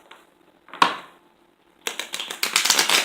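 A single soft riffle near the start, then a rapid run of crisp, close papery flicks and taps building toward the end, like cards being shuffled.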